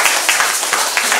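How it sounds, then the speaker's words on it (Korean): Audience applause at a karaoke night, a dense wash of clapping with a few stronger bursts across a short stretch, fairly loud and close. "박수 한번 부탁드릴게요."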